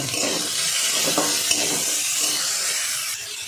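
Soaked chana dal with a little salt frying in ghee: a close, steady sizzle with soft scraping stirs of a spoon in the pan, no voices.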